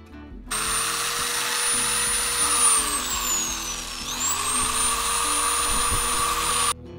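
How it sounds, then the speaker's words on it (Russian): A ring made from a 1992 5-kopeck coin is held firmly and polished against sandpaper by a rotary tool, giving a steady, close whine with a fluctuating pitch that runs continuously for several seconds and then stops abruptly. "Мы теперь можем их полировать об наждачку"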